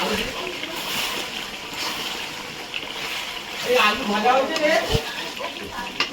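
Meat sizzles and spatters in a pan over a high gas flame while it releases its water, with stirring scrapes throughout and a voice speaking over the steady frying hiss.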